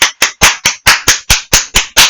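Hands clapping alone, nine or ten loud, close, evenly spaced claps in a steady rhythm with short silences between them.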